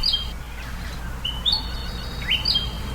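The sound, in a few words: Australian bird calling in the bush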